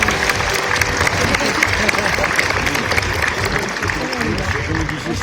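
Crowd applauding a winning crossbred male at a French livestock show, a steady wash of clapping with some murmuring and talk mixed in, continuous for the whole stretch.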